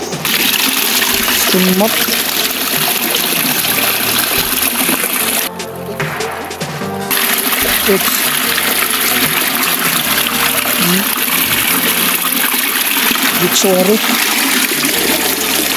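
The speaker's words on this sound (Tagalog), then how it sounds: "yung agos ng tubig yan, bumabagsak sa butas na yan" Water flows and pours steadily into a hole at a treasure-marker site, a continuous rushing splash that stays loud throughout. Voices talk over it at times.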